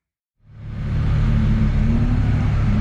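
Nissan 370Z drift car engine starting up and settling into a loud, steady idle rumble with a deep low drone, heard alone at close range.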